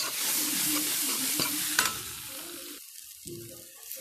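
A spoonful of besan fries with a grated cucumber filling for parathas, giving a loud, continuous sizzle close by. A couple of sharp scrapes of the spoon cut through it before the hiss thins out.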